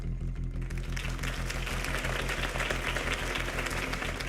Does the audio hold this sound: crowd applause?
yes